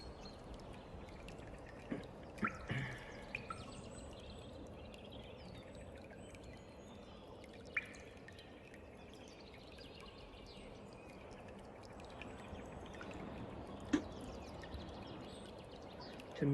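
Faint, scattered drips of water inside a mine, with occasional louder drops and taps standing out against a soft, hollow background hush.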